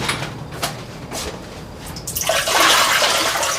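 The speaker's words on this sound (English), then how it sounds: "let's dump out this dirty water one last time" Dirty water from a dog's washing tub pours out in a loud, rushing splash that swells over the last second and a half, after quieter sloshing and handling noises.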